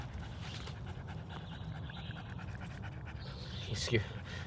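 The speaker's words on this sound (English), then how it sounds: "You guys hear Scout panting." A dog pants steadily and rapidly close by at an overnight bushcraft camp, a soft rhythmic huffing that continues throughout, with faint background noise.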